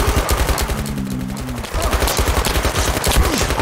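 Rapid automatic gunfire from the VR shooter Zero Caliber, a dense, loud stream of shots running throughout with a brief hum in the middle and faint voice underneath.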